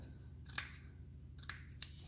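Scissors trim a beard into a V-neck shape, making three quiet, crisp snips spaced apart over a low steady hum.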